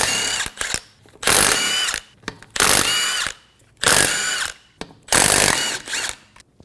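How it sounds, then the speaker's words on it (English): A 19mm ratchet socket loosens the rear wheel lug nuts on a 2014-2018 Subaru Forester, giving four loud bursts of fast clicking ratcheting separated by short pauses, close up. "remove the 5 lug nuts."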